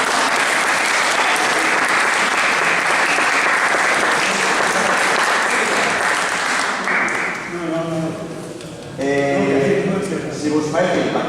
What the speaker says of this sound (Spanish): Un aplauso para Felipe.